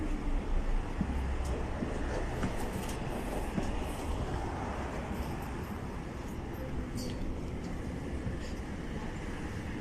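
Steady rumble and rolling noise from inside a moving train in Vienna, continuous and fairly loud throughout, with faint clicks and squeals on top.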